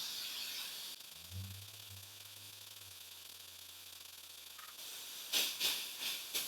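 Liquid propane vapor escapes from the vent port of a Mr. Heater Fuel Keg refillable cylinder during filling, giving a steady low hiss that turns into several louder, closer spurts near the end as the tank reaches full.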